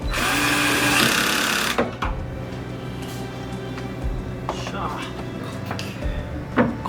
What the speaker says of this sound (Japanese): 最後にブラケットと枠をネジ止めして完全に固定しておきます